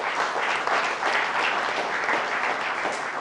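An audience applauds a panelist at a televised discussion, with even, sustained clapping from a moderate-sized crowd and no talk over it.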